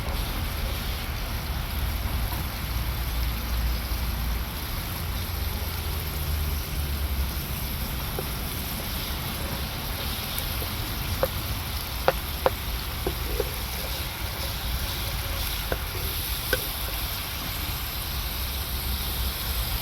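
Okra (lady finger) fries in a pan with a steady, even sizzle that runs unbroken throughout, with a few faint clicks and taps near the end.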